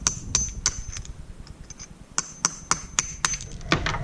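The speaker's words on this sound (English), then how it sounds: "Now I'm just going to be using this metal punch," A metal punch is struck repeatedly with a hammer to break out cut slats of rock, giving bright, sharp metallic taps in an irregular rhythm over a low background rumble.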